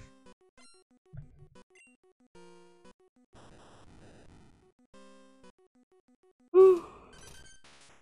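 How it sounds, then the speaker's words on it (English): Close, tired yawns break through beeping Pokémon Red game music, with one loud, drawn-out yawn near the end and softer breathy sounds earlier. "I'm so sorry for the yawns."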